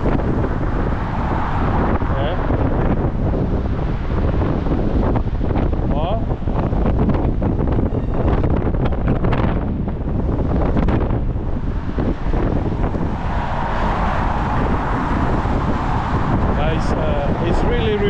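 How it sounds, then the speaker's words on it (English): Strong wind gusting across a seafront town centre, roaring steadily and buffeting the microphone throughout, with people talking over it. "It's quite windy, it's cold, the wind is blowing."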